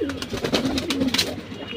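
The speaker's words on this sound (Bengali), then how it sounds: "হ্যাঁ গোলাপি দানার কবুতর" A pink-grained pigeon gives a low, rolling coo close up, steady across the moment with faint background bird sounds and no talk.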